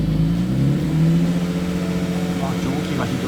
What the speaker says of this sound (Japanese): このマフラーのさ、いいところはこう徐々に回転上げてみ